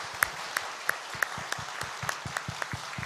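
Church congregation applauding during a Christmas worship service, a steady wash of many hands clapping with regular stronger claps standing out, fairly soft and distant throughout.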